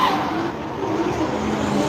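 Race cars, including an MX-5, running on track at Silverstone Japfest, a dense roar of several engines passing with a hint of tire squeal, loud and continuous for a short burst with no talk.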